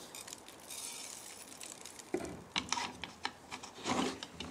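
Black pepper with cloves and mustard seeds is ground by hand, giving faint rasping and rubbing at first, then louder gritty crunching bursts in an uneven rhythm.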